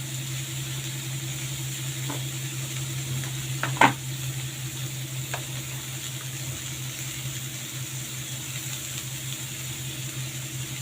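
Ghatkol stems with salt and turmeric frying in mustard oil in a pan, a steady close hiss of sizzling throughout with a few light spatula taps and one sharper clink.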